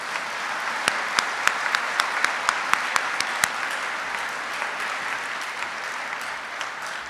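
A crowd applauds steadily at a warrant officer graduation, a dense wash of clapping with a few sharp, distinct claps standing out near the front, sustained without letting up.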